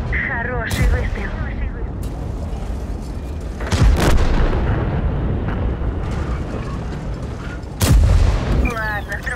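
In World of Tanks, an IS-4 tank cannon fires in heavy booming blasts, two big shots clearly heard about four seconds apart amid engine rumble and battle noise, with a voice talking over it.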